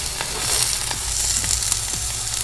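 Onion browning in a frying pan with garlic, a steady close sizzle and crackle with small pops scattered throughout, no talking.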